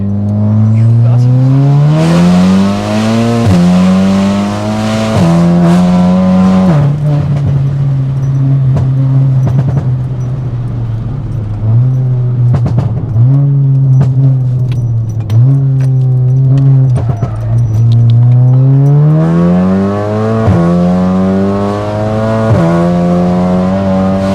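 A 500bhp Volkswagen Golf R accelerates hard and corners on private roads in Mexico, its loud engine note climbing steadily through the gears with sharp drops at each shift, close and continuous with no talking.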